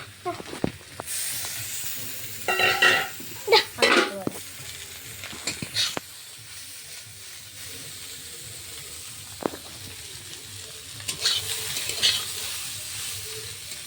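Pasta being stirred and fried in a pan, sizzling and hissing throughout with bursts of louder scraping and stirring near the start and again toward the end, close by.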